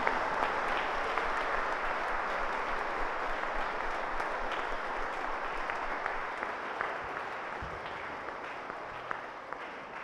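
Parish congregation at a children's confirmation service applauding loudly for the parents and trainers, a steady, sustained roar of many hands clapping that fills the church, fairly distant and uniform for the whole stretch.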